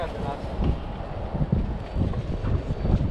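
Strong wind buffets the microphone aboard a fishing boat off the Durban backline, with a steady roar of gusts, water and hull noise throughout and no clear speech.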